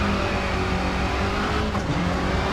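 Old-school rally car engine in WRC 9 drones steadily at high revs, a loud continuous buzzing note with slight pitch shifts and no voices.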